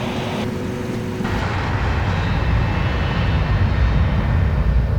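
An Inex Adria Aviopromet airliner's jet engines roar steadily during the takeoff roll. The loud, broad rumble builds slightly after the first second and fills the whole span.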